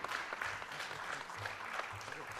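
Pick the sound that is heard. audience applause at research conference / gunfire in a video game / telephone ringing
audience applause at research conference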